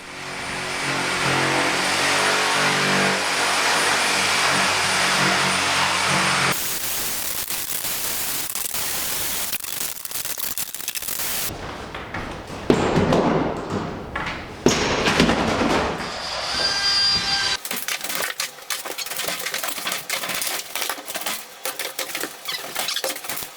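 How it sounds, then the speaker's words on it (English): A Sawzall reciprocating saw fitted with a bimetal blade cuts through doubled drywall layers along a wall-ceiling joint during condo demolition, a loud, continuous harsh rasping and buzzing that shifts in tone across several stretches, with no voices. "So I put a bimetal blade in my Sawzall and started cutting along the top edge between the wall and the"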